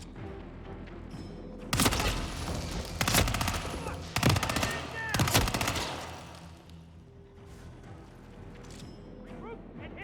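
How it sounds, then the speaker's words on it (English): Bursts of gunfire in the video game Hitman 3 ring out in several loud, rapid volleys over a steady low hum, with brief gaps between the clusters of shots. "Gunshot."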